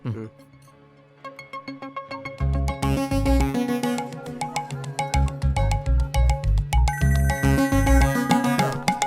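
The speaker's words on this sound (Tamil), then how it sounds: "நான் அப்படியே ஃபோன்ல ரிங் டோனை போட்டு எழுந்து வெளியே போறேன்" A melodic mobile phone ringtone plays loud and close in a Tamil film scene, its repeating electronic phrase pulsing steadily over a low bass beat for several seconds after a quieter opening.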